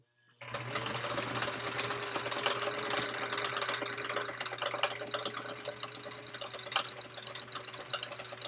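A sewing machine top-stitches the exterior of a tote bag, starting up abruptly and then running as a continuous, steady mechanical whir with a rapid needle rattle, close and alone.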